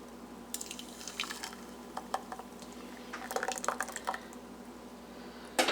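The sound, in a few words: pouring blended rice cake batter into a vessel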